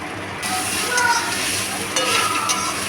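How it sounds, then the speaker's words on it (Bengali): Jackfruit and prawn curry stirred in a pan, giving continuous sizzling with scraping strokes and light metallic clinks of the spoon against the pan. "আবারও ভালো করে নাড়িয়ে চাড়িয়ে মিশিয়ে নিচ্ছি"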